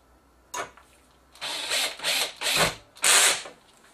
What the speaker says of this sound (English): My screwdriver is on its lowest torque, so it doesn't rip the screws out of it.